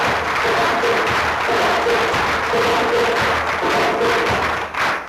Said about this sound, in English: you can give yourselves a big African Kemeteu round of applause